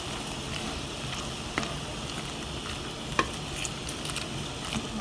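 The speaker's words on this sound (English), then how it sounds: "we're going to just keep cooking this down until it turns into a nice sauce" Cranberry sauce simmers in a pot, a steady bubbling sizzle with occasional light scrapes and taps of a spoon stirring through it, close and continuous with no talking.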